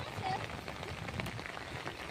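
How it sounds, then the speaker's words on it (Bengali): Rain falls steadily beside the Brahmaputra river as an even, close hiss of drops, with some faint voices underneath. "যে বৃষ্টি নামছে"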